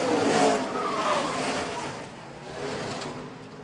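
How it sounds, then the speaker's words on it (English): Race cars at Watkins Glen in a NASCAR race, one car getting loose and crashing into another: a loud, steady engine roar with tire squeal and skidding that eases off slightly toward the end, with no talk. "Casey got loose and tried to correct it. Got into Sam"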